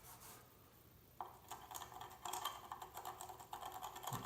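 Red paint being erased from a pottery surface, soft close rubbing and scratchy strokes in quick irregular bursts after a quiet start.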